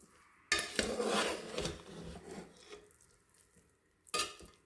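Cooked veg pulao rice stirred in a pot, a loud close scrape and rustle of a spoon through the grains lasting a couple of seconds, fading, then another short scraping stroke.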